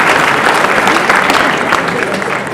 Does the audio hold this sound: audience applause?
yes